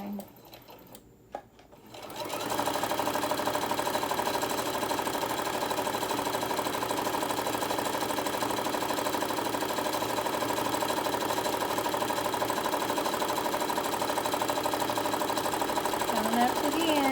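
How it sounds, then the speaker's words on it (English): A sewing machine back stitches a cross-body cell phone bag strap, its fast steady motor hum and needle clatter running continuously and close after a brief quiet start, with no speech over it. "I'm just going to give it a little back stitch to hold that in place"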